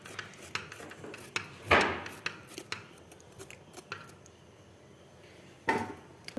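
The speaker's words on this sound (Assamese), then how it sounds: "এইবিলাক কাটি আছোঁ এইটো গাজৰ" Carrots being cut with a knife in a home kitchen, giving scattered soft scraping and chopping taps with a few louder knocks, close up and without talk.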